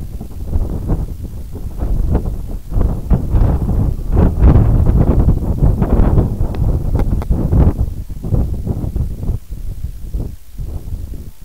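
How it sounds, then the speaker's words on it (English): Gusty wind outdoors in Ireland buffets the microphone in loud, uneven rumbling bursts that swell and ease over about eleven seconds. "There's a bit of wind there."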